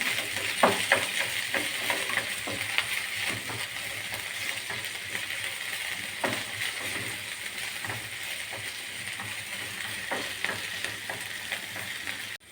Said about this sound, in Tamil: நமக்கு ஆயில் போட்டு நல்லா வதக்கி விடலாம். நல்லா வதக்கி எடுக்கலாம்.